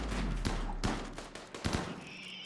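Militor shotguns firing in the RimWorld video game, several sharp shots scattered through a short burst over a continuous low background hum, with a rising tone near the end.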